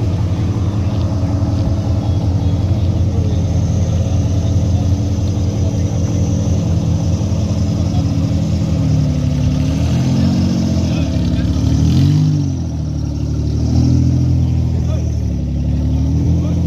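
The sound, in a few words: 4x4 offroad competition vehicles engines revving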